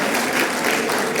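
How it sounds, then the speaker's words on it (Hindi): Loud, dense clapping from the audience at a Rawa Rajput Samiti annual function in Dabri Mod, New Delhi, filling the short span evenly with no break. "जोरदार तालियां बनती है साथियों।"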